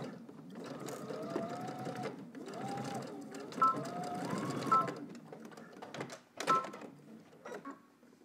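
A sewing machine stitches a garment collar in bursts of rapid mechanical whirring, with short pauses and a few sharp clicks between runs, close by and with no talking.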